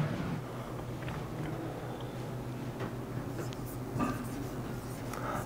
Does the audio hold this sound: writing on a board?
yes